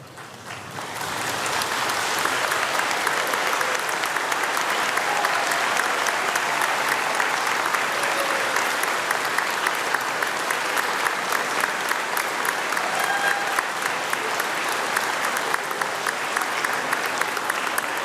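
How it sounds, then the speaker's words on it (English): A large graduation ceremony audience breaks into warm, sustained applause with some cheering, a dense steady wall of clapping that swells in the first seconds and holds loud and even throughout. "with a warm round of applause and some cheering, join me in thanking all those who have supported you"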